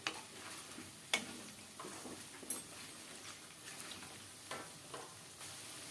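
Potatoes frying in duck fat in a pan for an Assamese duck and pumpkin curry, giving a quiet steady crackle with scattered sharp ticks and stirring scrapes, no talk.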